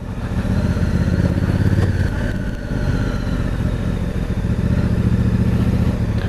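A Honda CRF1000 Africa Twin with the DCT gearbox running steadily on the road, its low engine note droning close and continuous, with no talk over it.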